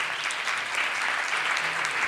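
An audience at a panel discussion claps steadily, a dense wash of hand claps filling the room without a break for about two seconds.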